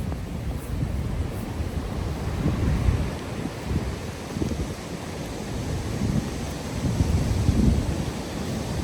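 A waterfall in a park near New York rushes as a steady broadband roar of falling water, with gusty wind buffeting a nearby microphone and no talking.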